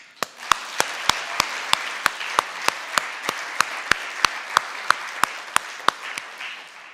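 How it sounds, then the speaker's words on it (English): Applause from a small audience at a university Black History Month lecture, with one nearby clapper's sharp, evenly spaced claps standing out over softer clapping behind, fading at the end. "I'd like to give one more round of applause, please"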